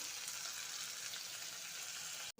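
Okra and tomato cooking in a pan with slit green chilies give off a steady, close sizzle with no voice, cutting out abruptly in a brief silence just before the end.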